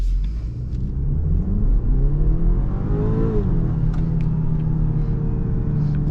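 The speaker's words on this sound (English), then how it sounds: "Once the turbo kicks in, this thing just goes." A 2022 BMW X3 turbocharged engine accelerates on a test drive, a deep cabin rumble climbing in pitch as revs rise, then easing back to a steady drone, heard from inside the SUV with no talk.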